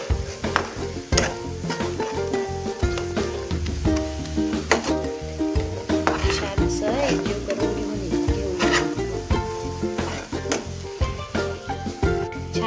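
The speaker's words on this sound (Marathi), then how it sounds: "आता हे पण आपण छान असं परतून घेऊया" Okra tossed with masala and coriander powder being sautéed in a pan, with steady sizzling and frequent clinking stirs, loud and close, over music or voice in the background.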